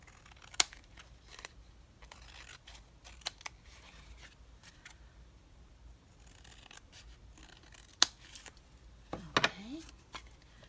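Scissors trim paper for a painted craft card, giving a few sparse, sharp snips and crisp paper rustles at close range over a quiet background.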